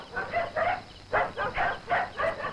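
A dog barks in a rough, repeated series of about seven woofs at a steady rhythm, fairly close and moderately loud, with no talking over it.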